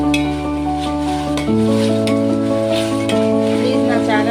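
Tomatoes frying in a pan for spicy biryani give a steady sizzle with occasional stirring scrapes, heard up close beneath tonal background music with no talking.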